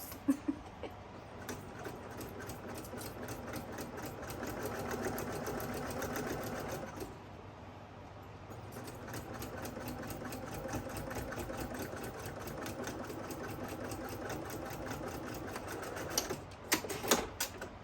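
A sewing machine runs a long top stitch along a tote bag, a fast steady mechanical whir with a short pause partway through, quiet and close, then a few clunks at the end.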